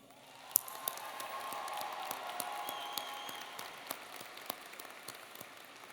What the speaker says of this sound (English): Please give these outstanding seniors a round of applause.